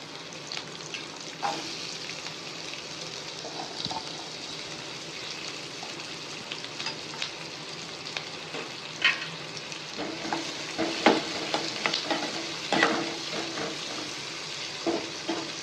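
Sliced onions crackle and sizzle in sesame oil in a kadai for Chettinad mutton gravy, with a steady frying hiss and spatula scrapes getting louder toward the end.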